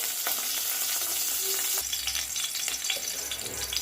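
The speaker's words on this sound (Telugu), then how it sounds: "ఎస్, ఆయిల్ కొంచెం హీట్ ఎక్కిందండి. ఫస్ట్ పచ్చిమిర్చి వేస్తున్నా." Green chillies dropped into hot oil for a spicy chicken curry, a steady loud sizzle that swells and roughens partway through as they hit the pan, with light clinks of stirring and no talking.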